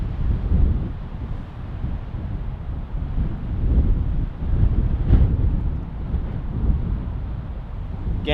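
Steady wind gusting across the microphone on an icy hike, a loud continuous low roar that swells and eases throughout with no voices.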